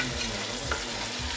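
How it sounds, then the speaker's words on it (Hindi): Beef keema masala with tomatoes frying in oil while being stirred, giving a dense, continuous close sizzle with soft scraping pulses and no speech. "5 मिनट तक जो है इसकी भुनाई करेंगे ताकि अच्छे से जो ऑयल है ये ऊपर आ जाए"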